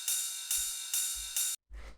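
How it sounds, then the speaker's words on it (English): High-passed ride cymbal from a Roland 909 drum machine, struck four times in an even pulse, bright and washy with each hit ringing until the next, then a fainter hit with a low thump after a brief gap. "it's just a ride from a 909 drum machine"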